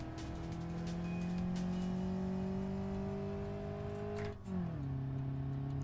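Ibishu Covet engine in the BeamNG driving game holding steady revs, then dropping sharply as it shifts to the next gear and settling lower, loud and continuous with no talk.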